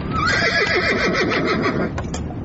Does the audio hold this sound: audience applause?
no